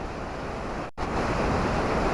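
Stream water rushes steadily and loudly beneath a bamboo bridge on a route back from a waterfall in Lumajang, a dense broadband roar briefly cut out for an instant before resuming.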